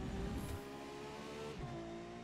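A car in the racing video game The Crew 2 roars past with a steady engine drone and a brief surge, heard at low level without talk.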